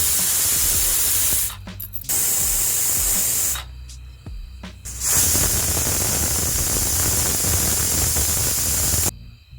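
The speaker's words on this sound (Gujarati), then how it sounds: "એક સીટી ફૂલ થવા દઈશું અને 3 સીટી મીડિયમ ગેસ ઉપર થવા દઈશું" A pressure cooker cooking bottle gourd curry on a gas stove vents steam in loud, continuous hissing bursts, with two short pauses between them, heard up close without any talk.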